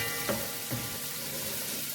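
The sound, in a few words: okra cooking in a pan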